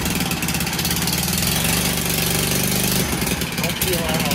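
A 1980s MTD mini bike's small engine idles close by with a steady, rough, mid-pitched chug, and people talk over it.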